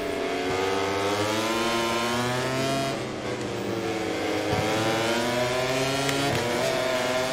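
An Aprilia MotoGP racing motorcycle in MotoGP 24, engine screaming loud and close as revs rise and drop through quick gear shifts between corners, with brief dips as the rider backs off the throttle.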